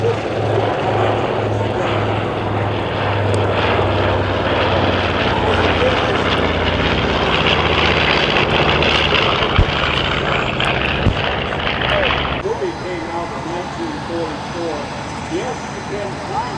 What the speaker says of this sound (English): those are Wright engines. Wright is the Wright brothers. They have a distinctive sound.